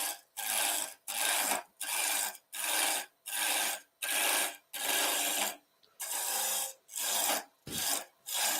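A peeling cut on a maple blank turning on a wood lathe gives loud, raspy shearing bursts, about eleven in a steady rhythm, each under a second long with short quiet breaks between.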